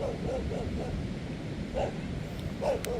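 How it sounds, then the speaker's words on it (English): A few short, muffled dog barks or yips in scattered bursts, fairly faint over steady background noise. "Why is this dog barking?"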